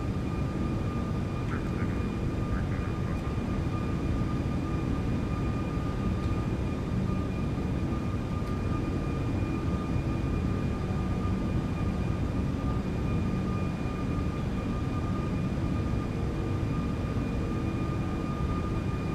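Airbus A340-600 jet engines in X-Plane 12 roar steadily through takeoff, a loud continuous broadband rumble with a faint whine on top, holding unbroken from start to end.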